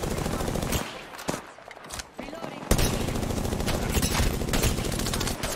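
Rapid automatic fire from a Devotion machine gun in Apex Legends, loud and close in sustained bursts with a short pause before a long continuous stream, over game sound effects.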